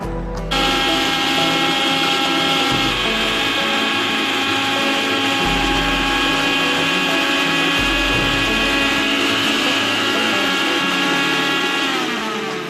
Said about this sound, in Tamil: இப்போ நம்ம ஒரு 10 நிமிஷத்துக்கு நல்லா பிளெண்ட் பண்ணியாச்சு